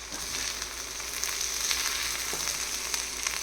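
A banana peel stir-fry sizzles and fries steadily in a pan, a close and constant crackling hiss with no talking.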